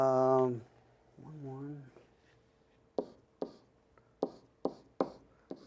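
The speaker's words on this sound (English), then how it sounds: "I'm just simply going to write out the fact that this is a 1, 0" A pen taps and strokes out binary digits by hand on a surface: a series of about eight short, crisp marks in a quick uneven rhythm, close and quiet, after a brief voiced sound at the start.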